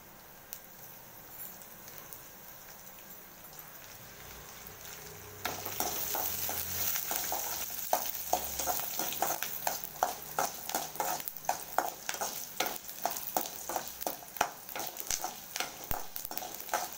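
Urad dal, tamarind and garlic hit hot sesame oil with a sudden burst of sizzling, then keep crackling and popping loudly as they are stirred in the pan.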